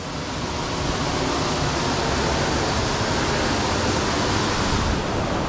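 A waterfall on Koh Chang pours in a constant, loud, broadband roar of rushing water, close and unbroken from start to finish with no voices.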